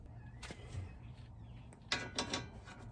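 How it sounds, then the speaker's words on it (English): Ratchet work on the strut bolts of a 2016 Ford Escape during a strut replacement: faint, close clicking strokes in short bursts, the strongest run near the end, with no talk. "Okay, so now I'm going to put in the bolts."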